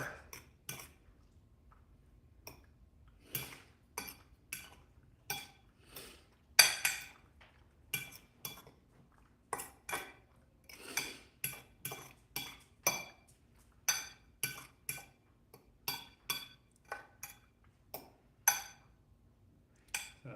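A utensil stirs shrimp through vodka sauce in a pan, giving a steady run of sharp metal clinks and scrapes, close and fairly loud, with no talking.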